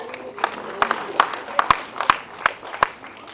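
A small audience at a film panel discussion claps for the panel guests: sparse, separate handclaps at an uneven, steady pace with a faint murmur of room noise underneath.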